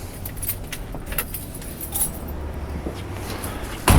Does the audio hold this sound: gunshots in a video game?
no